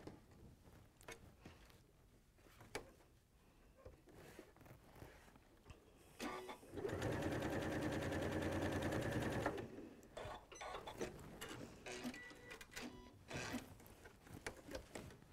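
A sewing machine stitching fabric pieces, with a steady whirring run of a few seconds in the middle amid quieter handling clicks and rustles before and after it.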